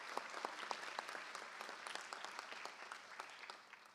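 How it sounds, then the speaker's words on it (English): Clapping from an audience at a school board meeting honoring student athletes, a steady patter of many hands heard from a distance and fairly faint, sustained throughout. "Let's give these ladies a round of applause."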